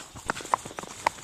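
A ridden horse's hooves clip-clop in a quick, uneven rhythm, several sharp close knocks over about a second.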